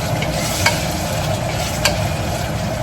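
Ginger garlic paste fries in hot oil for mutton biryani with a steady close sizzle, and two brief stirring clicks are heard in the pan.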